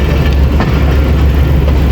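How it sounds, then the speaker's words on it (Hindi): Train rumbling loudly and steadily as it approaches platform 4 at a railway station in Pakistan, on the Gujrat to Attock City Junction route, with continuous low rail noise and no voices. "और हमारी ट्रेन प्लेटफार्म नंबर 4 पे अप्रोच बना रही है।"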